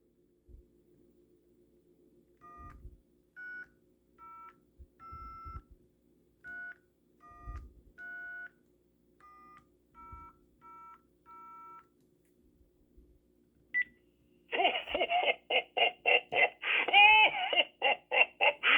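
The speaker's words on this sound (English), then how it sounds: "Let's get this tone dialer right next to the mic. Let's start dialing." A vintage Radio Shack tone dialer held near a microphone plays a series of short, clean DTMF beeps over a faint dial-tone hum, followed by a recorded voice message.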